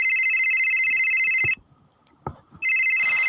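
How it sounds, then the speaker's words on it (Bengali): A telephone ringing sound effect: a loud, steady electronic ring that stops for about a second, broken by a couple of soft knocks, then starts again. "মাঝরাতে ফোনের ক্রিং ক্রিং শব্দ শুনে ঘুম ভেঙে গেল।"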